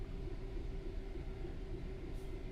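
Class 66 freight locomotive in Train Sim World 4 on the Midland Main Line, a steady low diesel rumble with a constant hum, continuous and fairly close with no talk.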